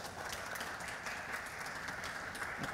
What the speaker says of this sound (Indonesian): Kasih aplaus ya buat Pak Sab.